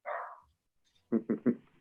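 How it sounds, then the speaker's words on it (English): A dog indoors during a planning and zoning meeting lets out a whine, then three quick, sharp barks in a row, moderately loud, with no voices. "You got my dog barking, Nancy."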